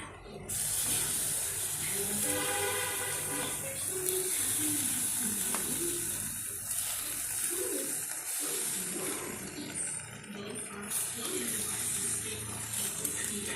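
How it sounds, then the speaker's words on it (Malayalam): A steady frying sizzle hisses throughout as fish pieces fry on a leaf in a pan, with soft bird cooing and faint voices in the background. "ഇലയിലിട്ടാണ് നമ്മൾ മീൻ വറക്കുന്നത്"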